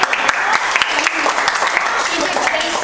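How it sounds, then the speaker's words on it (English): Sustained applause from a crowd of guests at a retirement party, steady dense clapping filling the whole stretch with some voices mixed in. "Ursula, you received one of the greatest rounds of applause"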